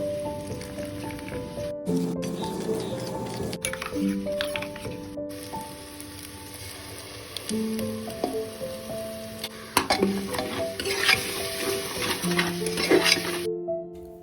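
Cumin-and-spice paste sautéing in a pressure cooker for chicken dum curry: a steady, moderately loud sizzle with stirring scrapes throughout, and brief louder bursts near the end, with no talking.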